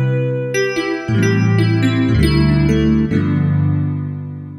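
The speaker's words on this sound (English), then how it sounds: "So let's go for an electric piano sound." Electric piano tones from a Montford MFDP9 digital piano play a few sustained chords with bell-like attacks, each change clear and close, with no talking.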